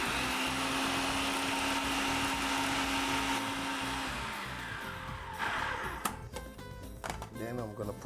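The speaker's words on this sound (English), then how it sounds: "I'm gonna use the machine and try to grind them up together." Electric grinder whirring loudly and steadily as it grinds whole spices including cloves, then winding down and stopping partway through, followed by quieter handling clatter and people talking.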